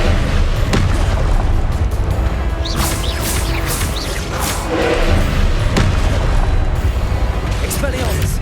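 Confringo fire spells explode in the video game Hogwarts Legacy: a loud, dense run of booming blasts and thuds, several in quick succession, over constant battle noise, with voices shouting now and then.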